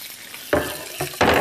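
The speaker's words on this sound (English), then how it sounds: "Nothing like the sizzle of something cooking in your pan there." Seitan browns in a pan with oil, short sizzling bursts flaring up loud and close as pieces are stirred and moved, separated by quieter gaps.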